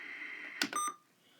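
A weather radio, the Running Snail MD319, gives a quick pair of short electronic button beeps, faint and close, over a quiet broadcast voice in the background.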